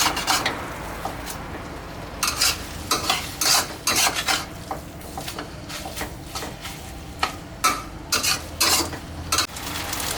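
Instant mee takhu noodles with bean sprouts are stir-fried in a pan. A spatula scrapes and clatters in quick, uneven strokes over a soft, steady sizzle, close and fairly loud.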